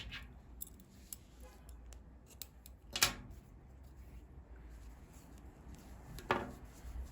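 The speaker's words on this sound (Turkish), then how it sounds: "İpliği kesiyorum." Scissors snip crochet thread in a quiet room, with two distinct short cuts standing out clearly over faint background hiss and a few small ticks.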